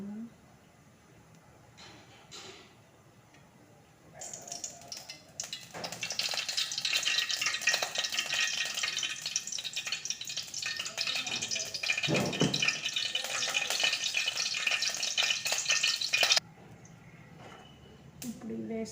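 Oil sizzles steadily in a hot pan for lemon rice, a loud continuous hiss and crackle that starts abruptly and runs for about twelve seconds before dropping back, with quieter kitchen sounds around it.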